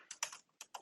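A few quick clicks of typing on a computer keyboard, soft and close, in a brief irregular burst.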